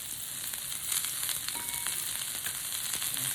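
Chopped onion fries in a pan, a steady bright sizzle and crackle close up, with a few soft scrapes of stirring and no voices.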